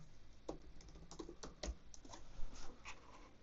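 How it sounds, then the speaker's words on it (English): Keys tapped on a computer keyboard while entering a router's IP address during setup of a TP-Link Archer GX90 router as a repeater; a short, irregular run of close, light clicks with a slightly louder stroke near the middle, no talking. "enter your main router's IP address like this, and then hit enter"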